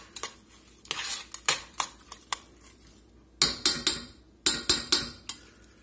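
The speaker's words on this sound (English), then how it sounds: "Let's mix this up here a little bit." A spoon scraping and clanking in a bowl while stuffed-potato filling with chopped bacon is mixed. Close, sharp knocks come in uneven bursts and then a quicker rhythmic run of strokes, with no talk.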